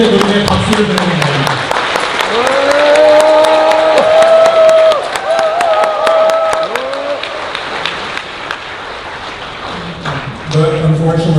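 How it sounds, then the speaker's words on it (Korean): Applause and cheering from the crowd ring out loudly at a Korean-American conservative alliance conference, a sustained clapping wash with voices sounding through it and dipping near the end. "I applaud you for that."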